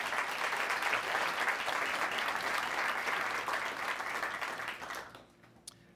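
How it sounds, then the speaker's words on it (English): An audience applauds city staff at a municipal state-of-the-city address, a dense steady wash of many hands clapping for about five seconds before fading out quickly into near silence. "Please give them a round of applause."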